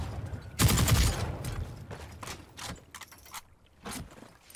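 An MG 42 machine gun is fired from the hip in The Cycle: Frontier, giving a loud opening burst followed by several shorter, spaced bursts of gunfire, all fairly quiet overall.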